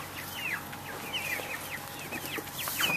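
White chickens clucking and calling steadily on a farm, several birds close by with overlapping short bright clucks throughout, over a low steady background hum.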